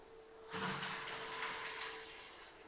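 A sliding door in a house built from interlocking stabilised soil blocks rolls along its track in one smooth pass of a couple of seconds, close and moderately loud, with no talk.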